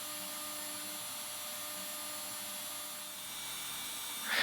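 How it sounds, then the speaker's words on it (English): A CNC machine mills vulcanized fiberboard into guitar pickup bobbins, a steady whining hum of the spindle and cutter that swells slightly louder at the end, with no talking. "Next, I cut out the bobbins using my CNC machine."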